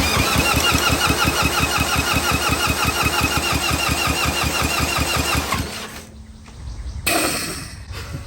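A smoking engine being cranked over and over as it tries to start, a steady fast chugging rhythm close by for about five seconds, then the cranking stops and resumes briefly.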